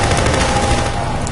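Rapid gunfire from the video game Half-Life 2 rattles loudly and continuously, a dense burst of shots filling the short stretch with no pause.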